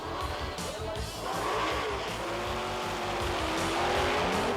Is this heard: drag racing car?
yes